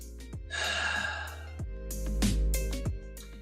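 One slow, deep breath, drawn in and released close to the microphone, with no talking around it.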